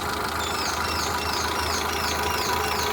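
A 2008 Hyundai i10 Magna engine idles steadily and close up, a continuous even hum with a faint ticking texture and no revving across the few seconds.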